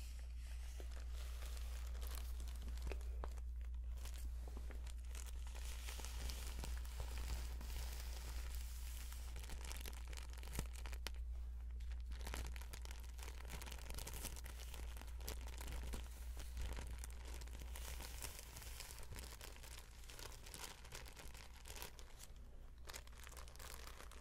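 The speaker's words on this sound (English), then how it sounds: "I call it a soft crinkle sounds" Tissue paper crinkles softly and continuously for over twenty seconds, close and gentle, with a few slightly sharper rustles scattered through it and no voices.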